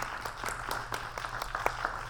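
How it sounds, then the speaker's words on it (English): Scattered, moderate applause at a 125-year celebration press conference, honoring the chair and former chairs, with individual claps distinct over a low room hum. "Let's give them a round of applause for their wonderful leadership."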